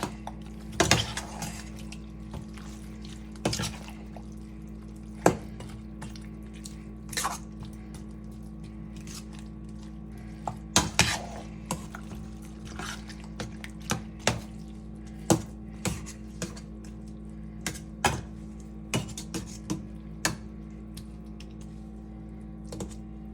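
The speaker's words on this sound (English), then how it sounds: "We checked our seasoning and give it a good stir." Okra and shrimp soup is stirred in a pot, with scattered clinks and scrapes of a utensil against the pot over a low kitchen hum, faint and irregular.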